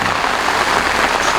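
Heavy rain pouring down in a rain forest, a dense, steady hiss of drops on leaves and ground, loud and close with no pauses.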